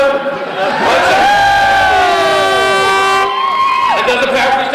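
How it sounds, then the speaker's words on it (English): A large crowd at the Cork County Junior Hurling Final between Ballygarvan and Grenagh in 2004 roars and chants loudly and steadily throughout, with sustained voices rising and falling close by. "there's a huge crowd here"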